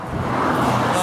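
A car rolling close behind on a road in the Balkans, its engine and tyre noise forming a steady, fairly loud rumble with no voices over it.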